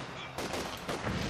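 Small arms gunfire in the Company of Heroes 2 video game, a dense crackling fusillade of overlapping shots with a couple of louder bursts, continuous and fairly loud over the short stretch.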